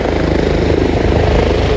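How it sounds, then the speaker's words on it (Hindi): A sightseeing helicopter in Wales carrying tourists flies close overhead, a loud, steady rotor thump and engine roar filling the whole stretch without pause. "हेलीकॉप्टर आया यहाँ पे,"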